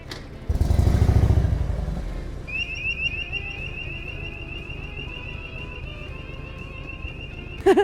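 A motorcycle rumbles low and close at a toll barrier on a Normandy bridge, with a brief louder surge early on, then a steady high electronic tone sounds over the idling engine until a short burst at the end.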